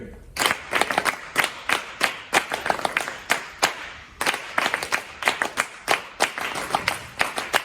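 Sharp staccato hand claps from a group performing a triple-meter rhythm exercise, each clap crisp and close, falling in grouped patterns with brief gaps between phrases.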